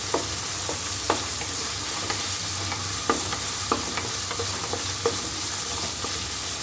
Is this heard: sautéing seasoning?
yes